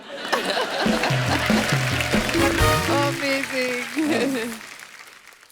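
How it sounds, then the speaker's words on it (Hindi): Studio audience on a Hindi comedy talk show applauds loudly, sustained dense clapping with laughter, under music and a voice, fading out at the end. "जोरदार तालियां हो जाए"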